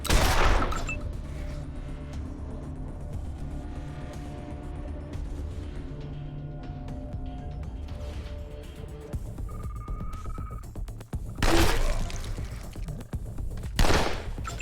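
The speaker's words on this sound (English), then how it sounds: "pump action shotgun" Pump-action shotgun blasts in Wasteland 2, a loud shot opening the clip and two more heavy booms near the end, separated by a long stretch of droning hum and ambient tones.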